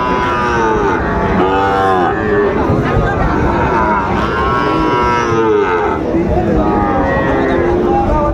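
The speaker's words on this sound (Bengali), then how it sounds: "শাহিওয়ালের ষাঁড় বাচ্চা" A Sahiwal bull calf at a busy cattle market lows repeatedly and loudly, its moos rising and falling close by over a constant background of crowd chatter and voices.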